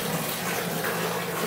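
Water from a tap runs into a bathtub, a steady, soft rushing and splashing hiss that continues evenly without pause for a short moment.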